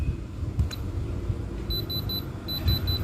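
Short electronic beeps from a diamond tester touching metal sound in two quick bursts of three evenly spaced tones over low background rumble and handling noise.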